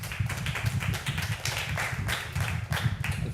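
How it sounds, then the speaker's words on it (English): Applause from a gathered audience at a community meeting on police alternatives and diversion, a short burst of steady, dense clapping with an even rhythm and low room rumble underneath. "Let's have a round of applause for Tamara."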